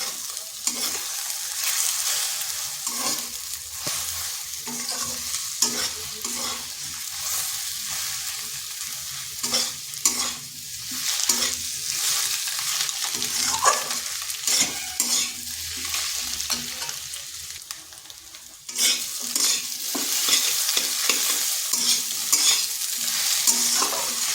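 Potatoes and egg frying together over low heat without water, stirred steadily: a close, constant sizzle with repeated scraping and clacking of a spatula against the pan.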